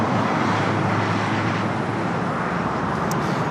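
A Boeing 787-9 Dreamliner airliner at LAX gives a steady, fairly loud jet rumble that stays constant for the whole stretch, with a low engine drone beneath broad airy noise.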